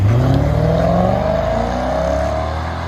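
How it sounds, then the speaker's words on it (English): A Ford Thunderbird's V6 engine revs up with a rising, throaty pitch, loud and close, then settles into a steady drone; no voices. "this engine does have a really good sound to it, however, so take a quick listen"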